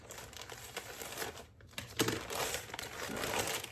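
Close, quiet crinkling and rustling of a pink plastic mail package being handled and pulled open, with a short pause midway.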